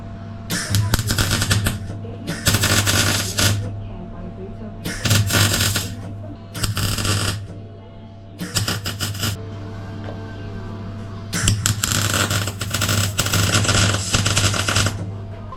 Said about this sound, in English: let's get the welder set up